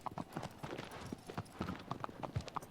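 Horse hooves clip-clop steadily and quickly in the video game Shadow of the Colossus, a continuous run of close hoofbeats with no talking over them.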